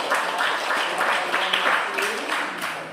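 Students in a classroom applaud together, a steady patter of many hands clapping at close range, with some background voices mixed underneath throughout.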